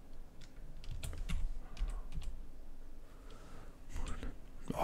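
Keys clack on a computer keyboard set just behind a microphone, in irregular bursts of close taps with soft muttering underneath.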